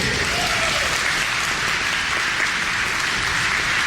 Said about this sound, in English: I think that needs more applause than that.